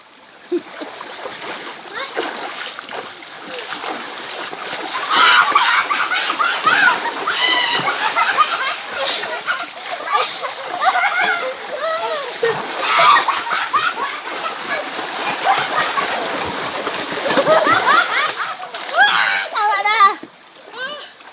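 River water splashes and sloshes around swimmers bathing in a river, irregular bursts of splatter close by, with children's voices and chatter running over much of it.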